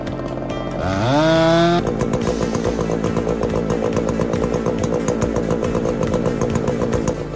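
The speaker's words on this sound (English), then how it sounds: "the skilled lumberjack grips the chainsaw, making powerful cuts into the massive tree trunk" A chainsaw revs up with a rising whine, then settles into a loud, steady, buzzing cut into a massive tree trunk, close and continuous with no voices.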